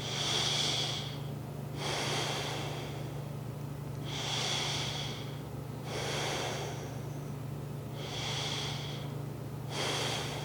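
Slow, deep breathing during a seated yoga neck stretch, with airy inhales and exhales repeating in a steady rhythm, close and clear over a low constant hum.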